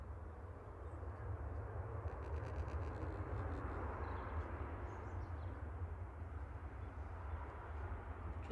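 A Jet2 Boeing 737-800 arriving at Manchester Airport after a flight from Rhodes, heard as a steady, fairly faint broadband roar of jet engines with a low rumble, continuous for the whole stretch and with no talk over it.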